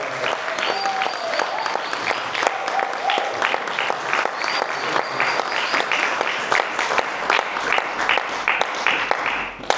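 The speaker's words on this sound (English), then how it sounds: "give him a thunderous round of applause" Audience applause at a Uganda Independence celebration gathering in Sheffield, a steady dense round of clapping from a crowd lasting the whole stretch, fairly close and even in loudness.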